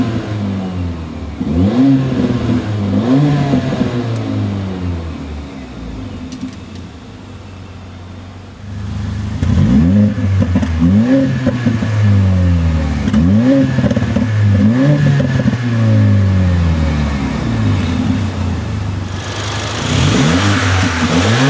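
A 2015 Mercedes-Benz GLA45 AMG 4Matic's engine and exhaust rev loudly and repeatedly up and down, with a pause to a quieter idle, heard up close.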